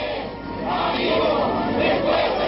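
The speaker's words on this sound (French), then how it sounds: "André, notre ami, le peuple est avec toi, scandait la foule" A large crowd of mourners chants in unison at the funeral of André Jarlan, the murdered priest, in Santiago's La Victoria district in Chile, a dense, steady wall of voices rising slightly and sustained throughout.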